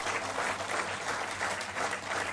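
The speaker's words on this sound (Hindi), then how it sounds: "जोर से एक बार इनके लिए भी ताली बजाएं।" Dense, sustained applause from a large crowd at a Bharatiya Janata Party political rally in Madhya Pradesh, with many hands clapping steadily and evenly for the full stretch, loud and close, with no speech over it.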